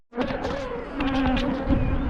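Agitated honeybees swarm around an opened hive during a full inspection, a steady, close, loud buzzing drone with overlapping wingbeats that rises slightly in intensity.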